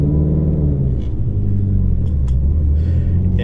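A tuned car's engine rumbles loudly from inside while driving, a deep, steady low drone with slight throttle fluctuations and a few faint clicks, no talking.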